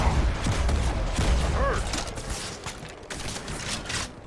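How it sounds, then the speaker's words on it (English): Halo 2 Anniversary gunfire from a distant sniper, with a rumbling burst of shots and crackling loud at the start that then thins into scattered softer reports and background noise. "Sounds like another sniper."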